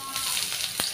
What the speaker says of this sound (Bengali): পেঁয়াজটা একটু সময় নিয়ে 2 মিনিট মতন ভেজে নেব নাড়াচাড়া করে